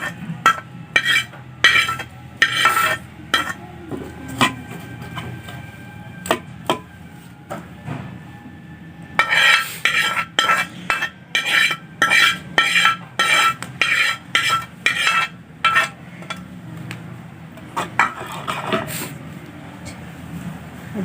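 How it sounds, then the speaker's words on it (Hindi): Metal serving utensils clink and scrape against a pot and plate while masoor dal is dished out, irregular sharp clatters with quieter gaps between bursts, close by with little talk. "तो देखिए मैं डिश आउट कर रही हूँ।"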